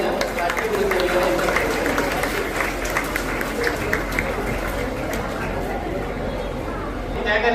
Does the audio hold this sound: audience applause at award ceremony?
yes